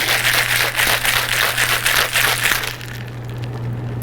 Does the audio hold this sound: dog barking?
no